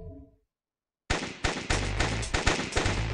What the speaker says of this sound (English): fire everything at him